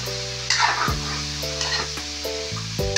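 String beans and okra sautéing in a pan for a vegetable guisado, steady close sizzling with repeated sharp metallic scrapes and clinks of a utensil stirring against the pan.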